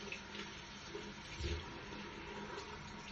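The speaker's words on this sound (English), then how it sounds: "Now we will rinse the soap." Water runs steadily from a faucet into a sink as soap is rinsed off hands and forearms, a soft continuous splashing rush with one brief heavier splash.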